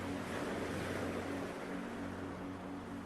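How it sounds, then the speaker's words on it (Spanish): Sea waves wash steadily in a continuous broad roar of surf that fills the whole clip, with no voices. "las olas del mar"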